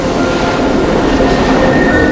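A Great Western Railway train rumbles steadily along the line, a continuous close rolling roar with a faint high whine running through it, loud and unbroken from start to finish.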